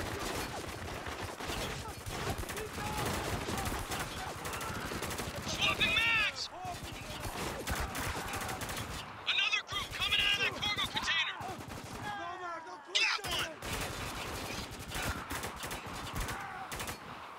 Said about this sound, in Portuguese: Manda um tiro de rifle lá.